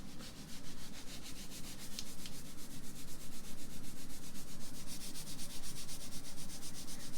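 Steady rubbing and brushing close to the microphone during an ASMR roleplay belly rub, a continuous soft rhythmic scratching that fills the whole stretch with no voice.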